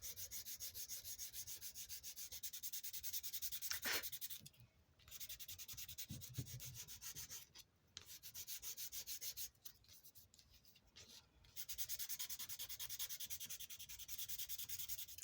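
Steady rubbing to roughen the glossy edge of a paper craft tag, a dry scratchy swishing in repeated bursts with short pauses between strokes, close and fairly quiet, no voices.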